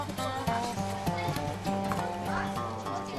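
Horses walking along riding trails on the Lüneburg Heath in Germany, hooves clip-clopping in an even rhythm under narration and background music.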